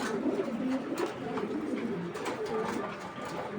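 A racing pigeon of imported Dragon bloodline coos steadily in a loft, its low, throaty calls repeating close by over a continuous background murmur.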